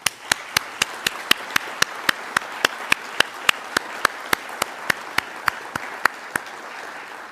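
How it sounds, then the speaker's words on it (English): Applause rings out at a 2018 Navy awards ceremony honoring the awardees' families, heard as a loud, evenly spaced run of sharp claps over a softer, steady background of crowd noise for about seven seconds. "Join me in a round of applause as an offer of our thanks to the"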